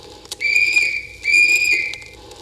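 A postman's whistle sounds in two long, steady, shrill blasts with bright overtones, each lasting most of a second, separated by a short pause. They ring out clearly with no talking.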